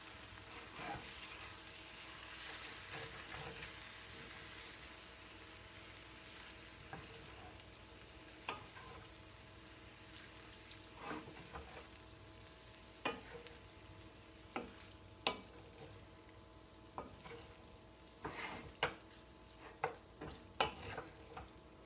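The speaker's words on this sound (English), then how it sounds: "Let's stir this all in." Salsa is stirred into taco pasta in a pan, faint sizzling underneath scattered scraping and knocking strokes of the spoon that grow more frequent and louder toward the end.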